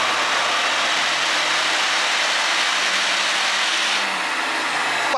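A JB4-tuned Kia K5 running 93 octane fuel on a chassis dyno pull, its engine a loud, steady roar with a rising tone held for the full stretch, with no talking.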